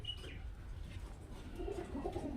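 A young Kalshira pigeon chick gives soft, faint cooing, a few low murmured notes rising toward the end over steady low background noise.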